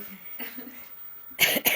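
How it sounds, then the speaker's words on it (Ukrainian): A child gives a couple of quick coughs near the end, following a soft murmur of quiet sounds. "Кашляй, кашляй, чого боїся кашляти"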